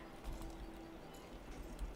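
Horses walking in a horse-riding video game (Equestrian-style festival setting), giving a steady clip-clop of hooves over a constant low background hum, with no talk.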